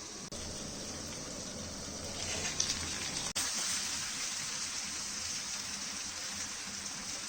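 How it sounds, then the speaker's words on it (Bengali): Potatoes and green tomatoes cooking with prawns in a covered pot, giving off a steady close hiss of simmering that runs throughout, with a brief knock and a small swell in the middle. "আবারও কিছুক্ষণ কষিয়ে ঢেকে দিয়ে রাখবো সিদ্ধ হওয়া পর্যন্ত"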